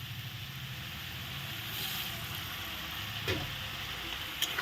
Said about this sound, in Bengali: এখন মশলা ভালো করে কষিয়ে নেবো